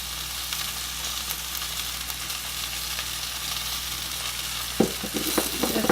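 Mushrooms and spinach sizzle in a pan, a dense, even frying hiss heard up close, with a couple of brief utensil knocks near the end.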